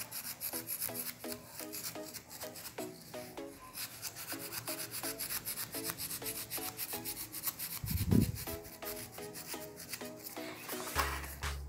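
A concrete plant pot being cut by hand, with repeated close scraping, rasping strokes in an even rhythm and a brief heavier knock near the end.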